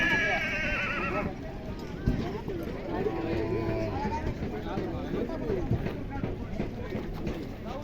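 A horse whinnies loudly at the start, followed by steady hoof clatter and busy crowd noise with people talking throughout, at a horse and bullock-cart racing ground.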